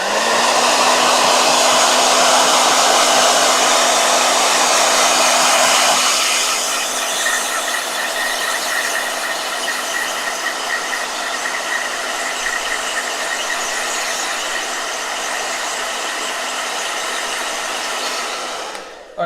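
A blow dryer runs steadily and loudly as a close, continuous whooshing roar with a tonal whine, its pitch and strength shifting slightly partway through as if the setting changes, with no one speaking.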